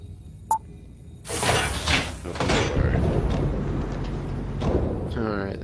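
A sliding door opens in the sci-fi VR game Apex Construct with a broad whooshing, mechanical swell that runs for several seconds, preceded by a short electronic blip and trailing off into a rising tonal chirp.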